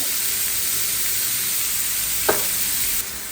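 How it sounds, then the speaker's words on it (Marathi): Chopped onion and tomato sautéing in oil in a pan, a loud continuous sizzle with a single brief stir partway through. "आणि कांदा टोमॅटोला छान परतवायचा आहे आपल्याला छान परतून घेऊयाला"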